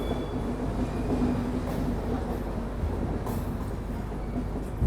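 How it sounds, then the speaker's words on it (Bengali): A train pulls out of Bardhaman Junction on the Darjeeling to Kolkata route, heard from inside as a steady, fairly loud rolling rumble of wheels and carriages. "তো আমাদের ট্রেনটা জাস্ট বর্ধমান স্টেশন থেকে ছাড়লো।"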